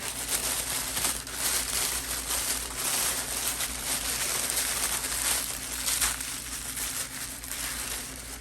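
Festive Christmas wrapping paper crinkles and crushes steadily as a package holding a resin-printed replacement head is unwrapped, a close, continuous rustle with no talking.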